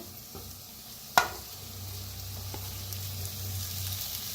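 Potatoes stirred into onions frying with turmeric in a pan: a quiet, soft sizzle with one sharp clunk of the spoon, then a low steady hum under the gentle frying.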